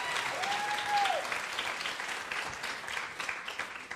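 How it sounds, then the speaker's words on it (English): Sustained applause from an audience at a book event, thick overlapping clapping at a steady level, with a brief tonal whistle-like sweep early on. "Yes, give a round of applause."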